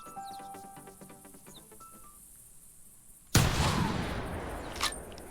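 A single loud rifle shot rings out in theHunter as a hunter fires at a whitetail doe about 50 meters away, sharp and close, with a brief trailing echo after quiet ambience.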